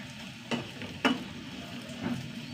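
Food frying in a pan gives a constant crackling hiss, broken by a few sharp clicks of stirring.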